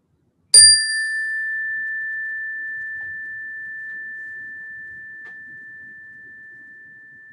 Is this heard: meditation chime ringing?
yes